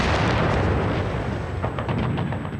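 Dense, rumbling bombardment from 15-inch guns on World War II naval monitors, heavy continuous booms and crackling blasts that blend into a thick roar, loud and sustained without pause.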